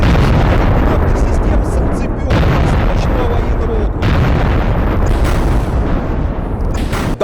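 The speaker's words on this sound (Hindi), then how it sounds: "कुछ बड़ा विस्फोट किया है रूस ने यहां पर" Explosion from a Russian strike in Donetsk war footage: a loud, sustained roar of dense blast and rumble fills the whole stretch, dipping only briefly before surging again.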